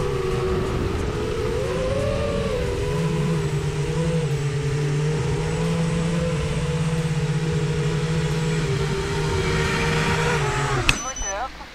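Eachine Tyro 99 FPV drone motors whining steadily at a sustained high pitch with shifting tones, loud and close, before cutting off abruptly near the end with a brief clatter.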